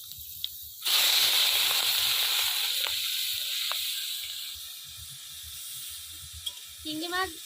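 Shrimp hit hot oil seasoned with dried red chilies, setting off a sudden loud, steady sizzle that slowly eases over several seconds, with a few crackles and pops and a brief clatter near the end.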